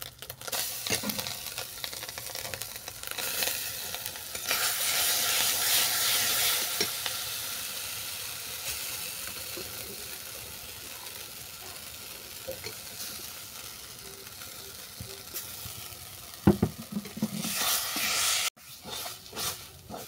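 Banana flower cooked with chili powder, turmeric and salt is stirred in a frying pan, a soft steady sizzle with scraping spoon strokes and a few sharper clatters near the end, no voices.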